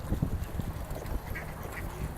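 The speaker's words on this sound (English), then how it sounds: "I just fed the ducks and the solo goose a bag of food, and Theresa's over feeding Jewel" Ducks quack in a low, busy cluster close by while being fed, several calls overlapping against a steady outdoor background, with a goose nearby.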